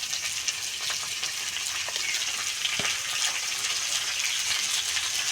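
Pumpkin and rohu fish head fry in a pan, a close, steady, dense sizzle with a few soft scraping stirs, lasting throughout without any talking.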